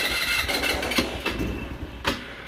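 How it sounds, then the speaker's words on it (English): A Vitacci Spark 150 scooter engine cranks and catches, settling into a steady mid-pitched running drone with a couple of sharp clicks or revs along the way, close and fairly loud with no talking. "when you start it, you turn the key on, and then you hold the brake"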